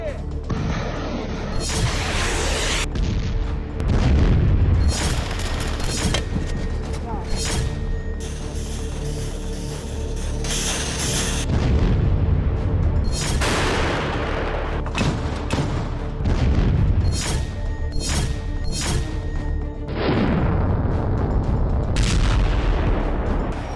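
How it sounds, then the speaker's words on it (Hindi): Repeated heavy booms and blasts from artillery, tank and mortar shelling in the Ukraine war crack out at irregular intervals, some close and sharp, others rolling and distant, over a constant rumble. "मिसाइल और रॉकेट की बारिश, टैंक, तोप और मोर्टार से गोलों की बौछार"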